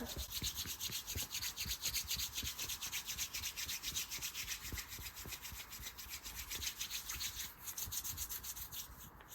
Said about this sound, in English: So this shoulder first, just giving it a good rub.